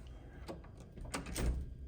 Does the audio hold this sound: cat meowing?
no